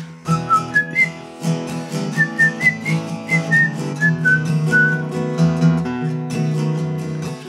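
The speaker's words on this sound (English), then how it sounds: "I want to whistle here." Someone whistles a lilting tune over a steady, rhythmic instrumental backing, the notes clear and up front.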